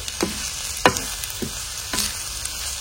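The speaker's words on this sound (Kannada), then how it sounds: "2 ನಿಮಿಷ ಈ ಥರ ಹುರ್ಕೊಳ್ಬೇಕು" Moringa leaves with black salt and spices fry in a pan to a steady low sizzle, broken by a few sharp scraping stirs, close and with no voices.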